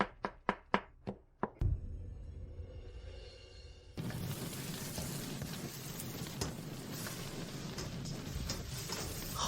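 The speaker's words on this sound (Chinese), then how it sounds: "这不是把辣椒锻打成泥了吗？" Chili peppers being pounded into a paste: a quick series of six sharp, evenly spaced thuds opens, followed by a broad, rough, continuous crackling wash that swells louder and holds steady.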